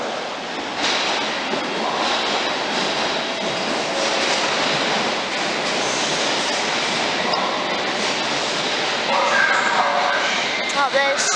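A train rumbles past with steady rolling noise and faint clattering wheels, loud and close throughout, with some talking underneath.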